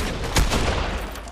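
A mammoth pistol fires in a video game: a short, loud, close run of shots in a dense burst, with a sharp peak at its start.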